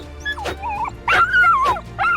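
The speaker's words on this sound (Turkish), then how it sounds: "Köpekler hala kafesin etrafında İsmail, Tuğkan ve Kemal'e saldırmaya çalışıyordu" Dogs whine, yip and bark in a short, agitated flurry as they attack around a cage in an interactive story game, loud and close, with a couple of rising and falling cries.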